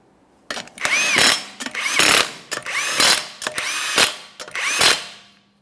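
Impact-style power tool spins and tightens 21mm wheel lug nuts on a 2014-2019 Toyota Corolla, five loud bursts of whirring and rattling hammering in steady succession with short pauses between, close and clear with no talk.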